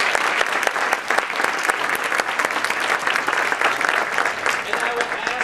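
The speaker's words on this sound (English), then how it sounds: "Please give them a round of applause." Sustained applause from an audience at an awards event for finalists of a national STEM video game challenge, steady, dense clapping throughout with no talk over it.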